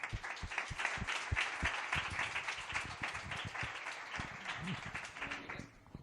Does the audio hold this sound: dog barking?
no